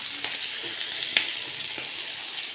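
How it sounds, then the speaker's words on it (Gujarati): Spices and garlic chutney frying in hot oil for a Kathiyawadi-style aubergine, pea and potato curry. The close, steady hiss has a few faint stirring knocks. "પછી બધા મસાલા એકદમ સાતળી લઈશું"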